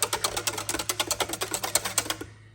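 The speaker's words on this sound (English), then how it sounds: "Let's whisk that in a little bit just to make sure it's mixed in there good." Rapid, steady clicking strokes of a whisk working chocolate into a homemade ice cream base in a bowl, close and fairly quiet, with a low constant hum underneath.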